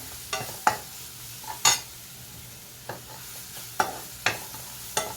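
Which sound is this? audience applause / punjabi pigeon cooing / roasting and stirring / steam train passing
roasting and stirring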